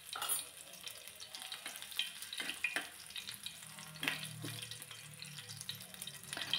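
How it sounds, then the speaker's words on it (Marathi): Chopped garlic and cumin seeds sizzle in a ladle of hot oil as a quiet, continuous crackle with scattered small pops and occasional faint clinks, and no talking. "इथे मी लसूण जिरे फोडणी दिल्यासारखं केलेलं आहे"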